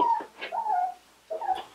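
Six-week-old Aussiedoodle puppies whimper in thin, high, wavering cries, three short whines close by with brief pauses between them and no talk.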